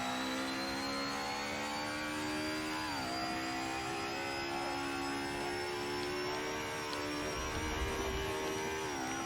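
A race car in the Assetto Corsa game screams around the Nordschleife, its engine holding a high, steady whine, with pitch dropping sharply at gear changes, then climbing again, loud and continuous with no voices.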